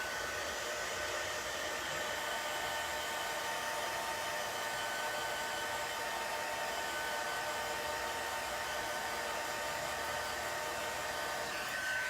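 A hair dryer blows continuously at an even pitch to dry chalk paste on a stencil, a steady close whir with no talk.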